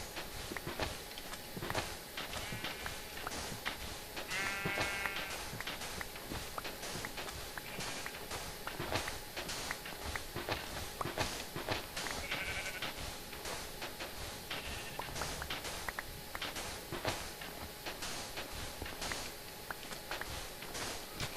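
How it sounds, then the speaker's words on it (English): Minecraft sheep bleat several times over a constant stream of game footsteps and block sounds, faint and intermittent. "That's the first sheep I've seen. Come to think of it, there's more over here."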